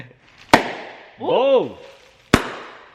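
A car exhaust lets out two sharp, loud bangs about two seconds apart, with a man's brief exclamation between them.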